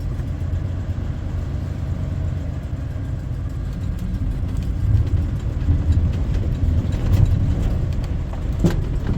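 A Ford 460 V8 in a farm service truck runs steadily at idle nearby, a constant low rumble that swells a little midway with a brief sharp knock near the end.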